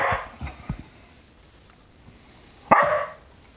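Cattle dogs bark in two short, close bursts, a quick cluster of barks at the start and a louder single outburst near the end, separated by quiet.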